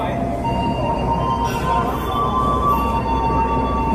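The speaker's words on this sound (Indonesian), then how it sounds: "Oh, kereta api Papandayanya siap diberangkatin lagi ternyata." Papandayan passenger train standing at an Indonesian station ready to depart, a loud continuous rumble and hum with a few brief high squeals and tones, with talk in the background.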